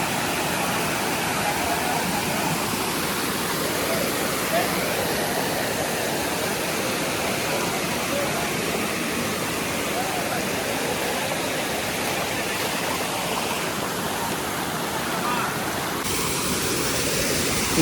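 Akole waterfall, a hidden fall in Palghar, roars in a dense, constant broadband rush of falling water, loud and close, with no voices over it.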